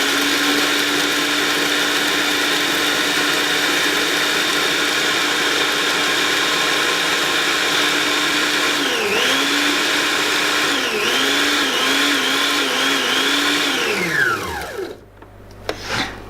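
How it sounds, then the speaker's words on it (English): Kitchen blender grinds Oreo biscuits with a loud, steady high whine, the motor pitch wobbling as chunks catch, then winding down to a stop with a clunk near the end. "need to take them out again and re-blend them"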